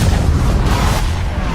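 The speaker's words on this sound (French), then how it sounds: "L'île flottante explose, ne laissant que le cube en lévitation au-dessus du vortex." A floating island blowing apart in the Fortnite video game: a loud, sustained, dense rumbling roar with boomy low end, continuous for the whole stretch without a break.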